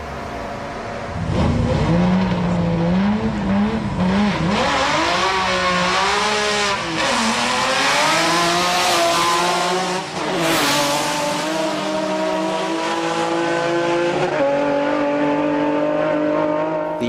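A naturally aspirated Nissan Z32 with six throttles and nitrous oxide launches on a drag strip at Sendai, loud engine revs climbing through repeated gear changes with a brief tire chirp, heard close and continuous.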